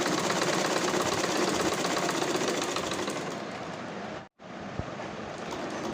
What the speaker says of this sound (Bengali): পিছনের গলায় পাইপিং করে এখন ঘুরিয়ে ঘুরিয়ে চাপ সেলাই দিয়ে নিচ্ছি